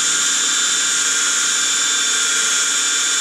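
A power drill bores a hole in a housing for a Mean Well 12 V 12.5 A power supply, giving a loud, steady, high-pitched whine that holds constant without a break.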